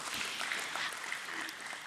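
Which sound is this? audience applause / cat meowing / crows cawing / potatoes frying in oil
audience applause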